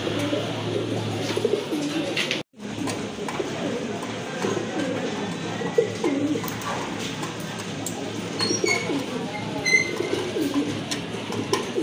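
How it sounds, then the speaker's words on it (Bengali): Pigeons, including large black-check dresser birds offered for sale, give low repeated coos in a busy, noisy setting, with voices mixed into the steady background. "আরেক জোড়া কবুতর দেখেন আপনারা"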